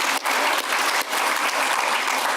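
Audience applause at a graduate celebration, dense steady clapping from a seated crowd with brief dips, filling the space without speech.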